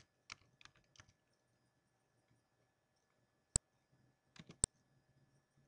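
A computer keyboard is typed on in two short, quiet bursts of clicky keystrokes separated by a pause, with a couple of sharper isolated taps, up close in an otherwise quiet room.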